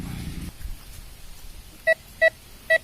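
Three crisp, evenly spaced electronic beeps ring out from a metal detector searching ground where coins turn up, sounding close and distinct over faint background rustle.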